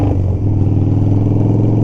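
A Harley-Davidson FXR motorcycle being ridden down the street while it has a misfiring fault, its engine a loud, steady close-up rumble with low pulsing harmonics throughout.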